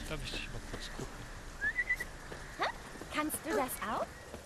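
A character in The Witcher 3 whistles a short tune of rising and falling notes, moderately loud, with someone talking in between and faint game ambience underneath.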